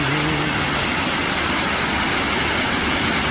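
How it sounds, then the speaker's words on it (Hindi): Water from a waterfall rushes steadily through a rainy hill valley, a dense, loud, unbroken roar filling the whole moment, with a faint low hum at the very start and no voices. "झरने बह रहे हैं, बारिश होती रहती है और ये आबशार जो है ये मन को बड़ी एक तसल्ली भी देता है,"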